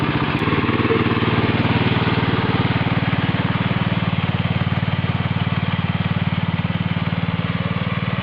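A walk-behind tractor pulling a plough chugs along without an operator, its single-cylinder engine giving a loud, steady, close drone with a low throbbing pulse and no talk.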